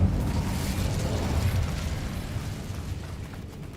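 An Incendio fire spell is cast in Hogwarts Legacy, producing a loud, roaring burst of flame that starts at full strength and slowly fades as a broad, rumbling whoosh.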